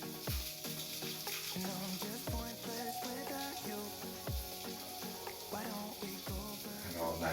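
Chorizo frying in a pan as it releases its oils, a steady soft sizzle with faint clinks and stirring, fairly quiet and heard alone without talk.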